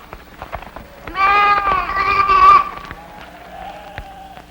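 A sheep bleats loudly once in a long, wavering cry, surrounded by scattered footsteps and quieter bleats in the background.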